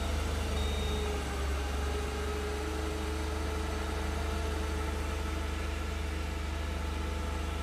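A balanced Ford 2.5L engine in a CLARK GEN2 forklift runs at a steady idle, a continuous smooth drone with even low rumble and no change in pace, close up and alone.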